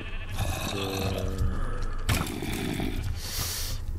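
Sheep bleating in a video game, a couple of wavering, nasal cries up close, with steady game ambience underneath and a sharp rushing noise partway through.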